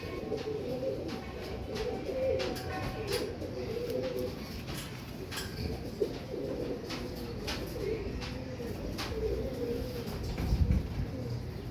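Tiger breed pigeons coo softly and repeatedly, a low, continuous murmur of calls at moderate distance with no talking.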